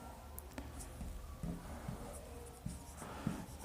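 Marker or chalk strokes on a classroom board as maths answer options are written out, a quiet series of short scratches and taps at an irregular writing rhythm, close and unaccompanied by any voice.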